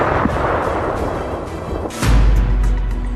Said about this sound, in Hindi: ये रूस की सेल्फ प्रोपेल्ड आर्टिलरी MSTA है, जिसमें 152 मिलीमीटर की तोप लगी है।